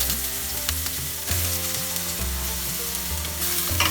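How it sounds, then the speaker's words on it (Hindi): Eggplant frying in mustard oil, a loud, continuous crackling sizzle with intermittent stirring and scraping in the pan; no one speaks. "अभी मैं बैंगन फ्राई कर लेती हूँ।"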